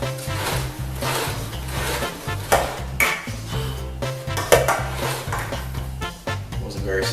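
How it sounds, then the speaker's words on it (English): Hot potatoes are cranked through a food mill into a bowl: close, continuous grinding and scraping with repeated metallic clanks and knocks, fairly loud and irregular throughout. "now that we have our potatoes in our food mill, we're just going to press them through to our bowl"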